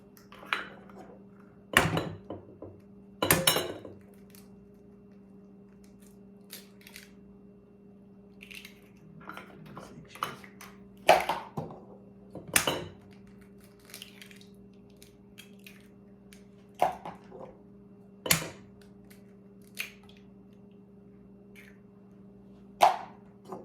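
Seven farm fresh eggs are cracked into a bowl for quiche, giving a series of sharp taps and clinks spread across a quiet room with a low hum, some taps landing in quick pairs.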